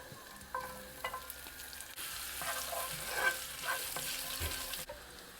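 Ginger frying with cumin seeds in hot olive oil gives a soft, continuous sizzle, with intermittent stirring scrapes and clinks nearby.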